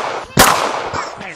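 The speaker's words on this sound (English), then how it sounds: "We're having a shootout!" Gunfire in a video game shootout against clones on a beach, one loud sharp crack followed by fainter pops and scattered sounds, with voices nearby.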